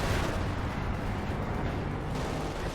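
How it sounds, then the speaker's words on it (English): Artillery barrage in the World War II strategy game Company of Heroes 2, a dense continuous rumble of overlapping explosions and booms, loud and sustained with no pauses. "Indirect fire from the concentrated barrage."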